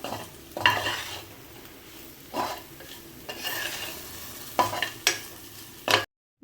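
An okra stir-fry is stirred in a pan after grated coconut goes in, with a soft, steady sizzle and several distinct scraping strokes of a spoon against the metal before it cuts off.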